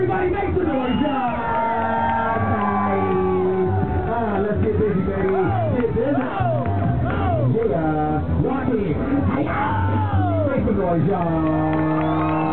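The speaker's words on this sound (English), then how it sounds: "Everybody make some noise, y'all." A crowd cheers, whoops and shouts continuously at a lively event, with children's voices and a babble of many people mixed in, loud and close throughout.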